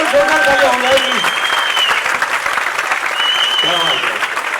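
Loud, dense applause from a live concert crowd for a singer, sustained throughout with scattered cheers and whistles rising above the clapping.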